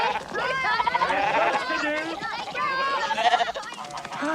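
Sheep bleat steadily at a farm shearing, their wavering cries overlapping without pause. Children's voices and chatter mix in alongside.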